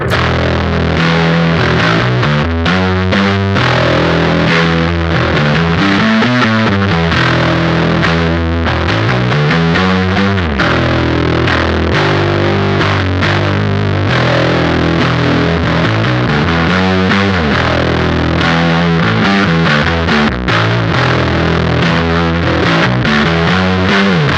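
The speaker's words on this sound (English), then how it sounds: "switch it over to position 3, which is a bass boost on circuit 0, and hear how that sounds" Beetronics Wannabee fuzz pedal set to position 3, a bass boost on circuit 0, playing a thick, buzzing distorted tone in continuous riffs with sustained notes and bends for about twenty-four seconds, loud and up front with no talking.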